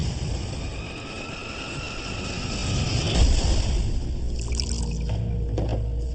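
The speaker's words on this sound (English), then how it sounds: "That's the sound of the plane coming apart." A dramatized in-flight breakup of Adam Air Flight 574, heard as a dense, roaring rumble of wind and airframe stress that swells midway, with scattered creaks and rattling bursts toward the end.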